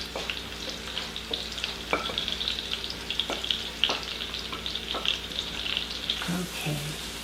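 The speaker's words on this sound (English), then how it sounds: "2 stalks of celery diced, and 2 carrots diced. This is the base of our soup, so we're going to put that in there." Diced celery and carrots frying in a soup pot, a continuous close sizzle with scattered scraping stir strokes and occasional clinks.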